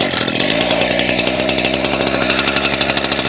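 A gas-powered tool engine, choke on for starting, runs at a steady rapid buzzing idle after being pull-started, loud and close with no voices.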